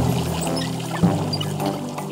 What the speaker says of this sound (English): Just turn the handle to the left and watch the water squirt.